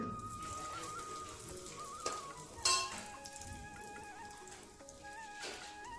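Quiet crackling and popping of asafoetida in hot oil, a soft continuous sizzle with a few brighter bursts.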